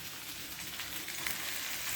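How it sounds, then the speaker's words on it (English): Steady, crackling sizzle of onions frying in hot oil, close and continuous with bright hissing throughout. "So basically, you're frying them."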